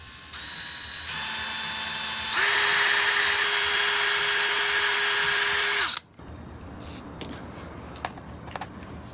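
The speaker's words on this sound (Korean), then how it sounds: "구멍은 드릴로 하죠 뭐." A power drill boring M5 holes for a bolt-on bikepacking saddle bag, a whine rising in steps and holding steady for a few seconds before stopping, followed by faint clicks and handling noises, close and loud.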